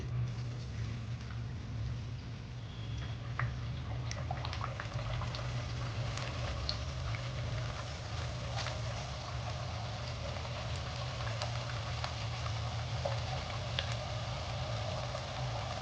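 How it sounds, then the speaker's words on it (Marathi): Rice flour puri deep-frying in very hot oil gives a steady bubbling hiss with faint scattered crackles and ticks, even and unbroken for the whole stretch, heard alone. "तेल चांगलं कडकडीत टाकून घेतलं आहे आपण आता पुरी सोडून"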